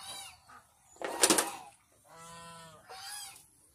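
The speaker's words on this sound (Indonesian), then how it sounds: "Itik angsa serati." Several harsh honks from geese and Muscovy ducks, spaced irregularly, with one louder squawking burst; fairly close and otherwise quiet around them.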